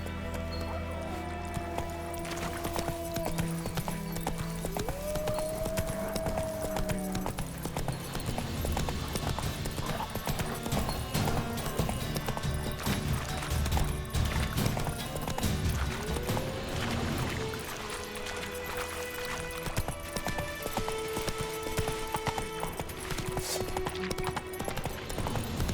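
Horse hooves gallop steadily in Witcher 3: Wild Hunt, a dense clip-clop rhythm running throughout at close range over a layered game soundscape with music, with a brief whinny.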